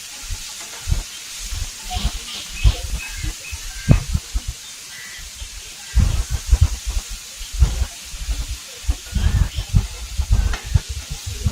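Chilli chicken stirred in a hot pan, sizzling with a steady hiss under repeated clattering scrapes and knocks of the spoon, fairly close and continuous throughout.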